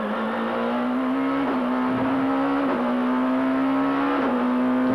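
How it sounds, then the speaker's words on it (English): In-car sound of a BMW touring race car driven by Ivan Muller, the engine held at a high, steady whine with several very quick sequential gearbox shifts heard as brief dips in pitch, loud and close throughout. "Just listen to how fast those gear changes are."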